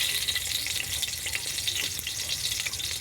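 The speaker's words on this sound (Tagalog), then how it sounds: "Magigisa na naman ako ng bawang." A small amount of garlic sautés in a hot pan with a dense, steady sizzle and light crackle close by, and faint stirring ticks run through it.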